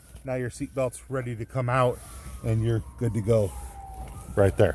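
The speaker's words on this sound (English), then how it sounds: "Sorry about the sirens in the background." Someone talks up close while a wailing police siren sweeps slowly in the distance behind his voice.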